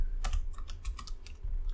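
Keys clatter on a computer keyboard in a quick burst of close, crisp taps, about a dozen strokes in an uneven typing rhythm with no talk.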